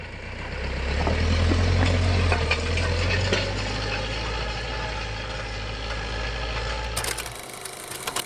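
A tractor engine idles close by with a steady, loud low rumble that holds for about seven seconds before cutting out abruptly near the end.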